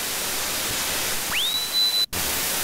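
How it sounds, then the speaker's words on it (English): Broadband white noise from a Korg ES1 sampler, a steady hiss filling the whole range, with a rising tone sweeping up and holding near the end before a brief dropout. "what we need is we need to take this white noise sound and squash it down"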